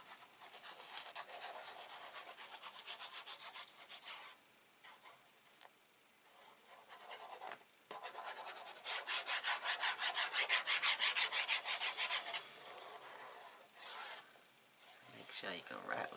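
Glue is spread over a craft card with steady, close rubbing and scraping strokes that quicken into a fast rhythmic run partway through, then slow again, with no voices.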